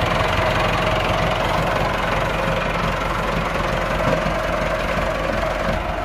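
Massey Ferguson MF 385 tractor engine hauling a heavily loaded trolley, a loud, steady diesel drone with a knocking rhythm that runs unbroken close by, with no voices.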